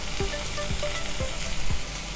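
Red chilli, coriander and other ground spices fry in hot oil for a capsicum chilli fry, a steady close sizzle with a few soft spoon scrapes spaced about half a second apart, no talking.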